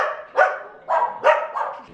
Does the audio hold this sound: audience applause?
no